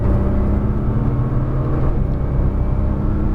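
A Nissan GT-R pulls out of a corner on a race track, its engine a steady, loud, continuous rumble with a low drone that holds for the whole few seconds, heard from inside the car with no talk.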